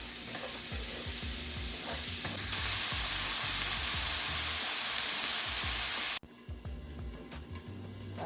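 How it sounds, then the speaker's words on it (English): An onion and garlic mixture sizzles steadily in a pan, with a continuous loud hiss of frying and repeated scraping knocks of a utensil stirring it. "let's give the onion mixture a stir"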